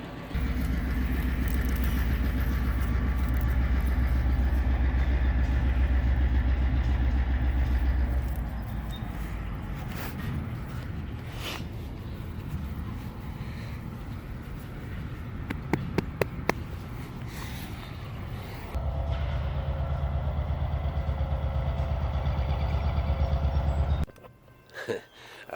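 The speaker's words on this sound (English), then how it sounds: "We got the trains in the background here." Heavy rumbling trains pass in the background, a loud low drone with rattling that fades, then returns before cutting off.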